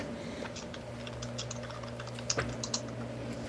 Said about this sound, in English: Are you typing something to me?